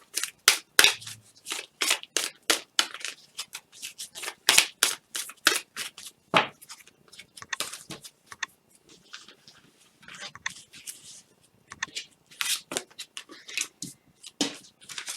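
Oracle cards are shuffled for a cross spread in bursts of crisp riffling and slapping card sounds, close and uneven, with pauses between bursts.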